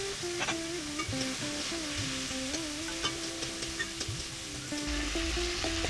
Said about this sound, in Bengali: আর এই দেখো সব আলুগুলোকে প্রথমে ভেজে নিচ্ছি